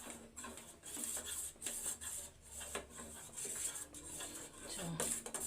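Dishes and cutlery clatter in a home kitchen as rice is served onto a plate, with scattered light clinks and scrapes at moderate distance over low room hum.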